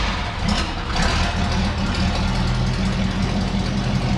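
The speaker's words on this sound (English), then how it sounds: "we'll go ahead and start the engine and cycle the steering at this point" The engine of a Chevrolet C20 truck runs at a steady, rumbling idle close to the microphone, a continuous low mechanical drone with slight knocking texture and no voices.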